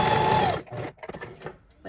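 Sewing machine running a quarter-inch seam on a blanket section, a short loud whirring burst that stops abruptly, followed by quieter handling noises and light clicks.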